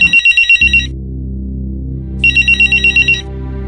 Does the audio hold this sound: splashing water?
no